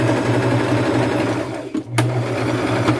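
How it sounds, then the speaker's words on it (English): A sewing machine stitches a seam on a lace tunic made from thrift-store pieces. It gives a steady, close mechanical whir with a brief pause midway before stitching resumes. "And sew that hole shut."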